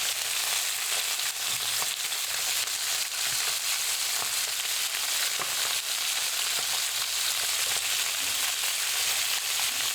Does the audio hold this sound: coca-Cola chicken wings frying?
yes